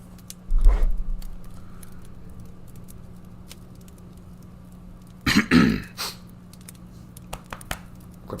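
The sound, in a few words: throat clearing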